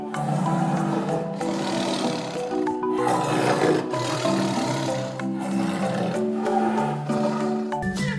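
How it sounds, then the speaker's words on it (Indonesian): Black panther roaring loudly and close, a run of repeated deep rumbling roars that fill the whole stretch with no pauses. "ini namanya macan kumbang"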